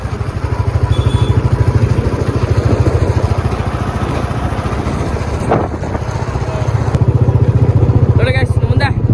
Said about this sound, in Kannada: ಹಿಂಗೆ ಬೈಕಲ್ಲಿ ಹೋಗ್ತಾ ಇದ್ದೀವಿ ಎಲ್ಲರೂ